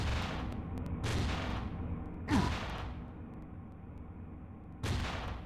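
Gunfire in a Hindi-played boss fight video game goes off in four sharp bursts, each decaying quickly, with a low rumbling background between them.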